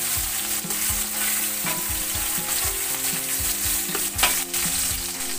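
Garlic and onion sauté in hot oil for pakbet, a loud, steady sizzle close up with occasional scrapes and clinks of a spatula against the pan, and no talking.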